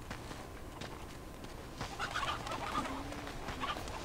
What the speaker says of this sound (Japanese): 鶏。